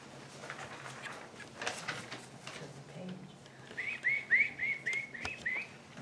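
Several birds chirp and whistle in a quick run of bright, rising notes on a summer side porch, clear over soft background rustle, following a quieter stretch of faint noise.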